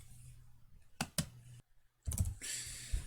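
Short bursts of computer keyboard typing come through, a couple of quick key clicks, a brief pause, then a denser run of keystrokes, quiet and near.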